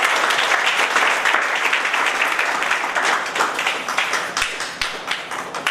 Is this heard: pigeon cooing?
no